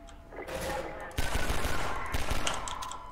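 Gunfire in Half-Life 2 rattles in short bursts of rapid shots, close and loud over steady background noise.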